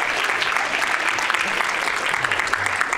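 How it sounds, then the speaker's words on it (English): A stand-up comedy audience breaks into steady, dense applause for a married couple in the back of the room, a continuous wash of clapping lasting the full three seconds with no talk over it. "give a round of applause for the married couple in the back"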